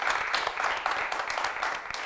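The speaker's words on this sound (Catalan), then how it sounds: "Un aplaudiment, que ho ha fet molt bé." Audience applause on a Catalan television word-spelling quiz show, a steady dense wash of clapping with a few sharper claps standing out, moderately loud and continuous throughout.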